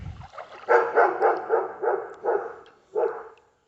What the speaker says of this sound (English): someone decided to buy dogs at this particular location, so I guess now I'm gonna have to listen to annoying barking